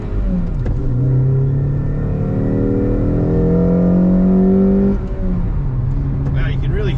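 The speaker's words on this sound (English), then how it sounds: "you can really hear that VTEC in first gear" A Honda Accord CL9 engine revs hard in first gear into VTEC, a loud rising rumble climbing in pitch for several seconds, then easing off briefly before building again.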